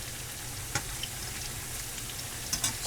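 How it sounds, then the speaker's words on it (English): Canned french fries frying in hot oil give a steady, soft sizzle with scattered small pops and crackles, fairly quiet and close, with no talking. "So we're just going to let these fry."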